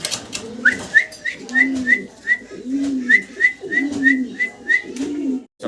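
Pigeons coo close by in a steady series of soft, throaty calls, with thin high whistling chirps repeating alongside them.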